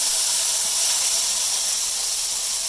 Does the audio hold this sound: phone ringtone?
no